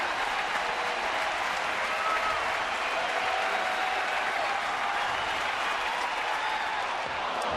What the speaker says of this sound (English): The sellout crowd at AT&T Park now standing with a 1-2 count